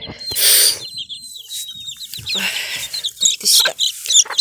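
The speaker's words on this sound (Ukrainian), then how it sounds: "Такі вже наші курчаточка виросли." Busy chirping of chicks with occasional clucks from a Millefleur hen, close by, in a lively overlapping chorus with no talking.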